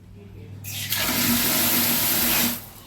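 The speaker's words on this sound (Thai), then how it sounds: "น้ำไหล" Water runs loudly from a fixture in the bathroom of a newly built house being tested, a close, steady rushing flow of about two seconds that starts abruptly and then tapers off.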